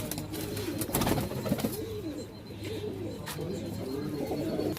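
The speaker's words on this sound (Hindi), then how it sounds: "ये प्रधान पिजन क्लब और इनका ऊपर आगे ब्रीडिंग लॉफ्ट है" Pigeons cooing steadily in a club breeding loft, soft repeated burbling calls close by with a few chirps over a low background hum.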